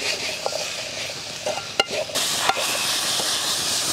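Banana flower, shallots and garlic sauté in a pan, giving a soft steady sizzle and hiss with a few sharp stirring clicks and spoon knocks against the pan.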